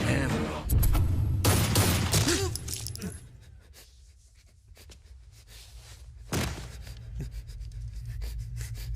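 Sharp gunshot bursts crack loudly at the start, followed by a quieter stretch and another loud shot later, with a faint voice in the background.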